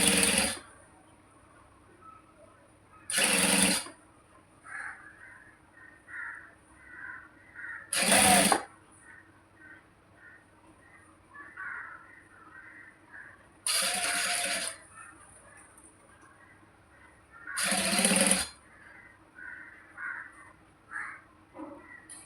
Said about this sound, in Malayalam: ചെറുതാക്കി ഞാൻ മടക്കി തയ്ക്കാം.